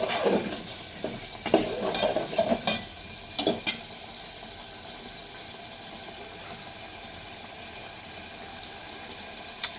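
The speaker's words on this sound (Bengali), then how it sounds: "ততক্ষণ একটু কষিয়ে নিই।" Spice paste for a goat meat curry sautés in oil with a steady sizzle, while a spoon scrapes and stirs in a few clustered strokes early on before the frying hiss carries on alone.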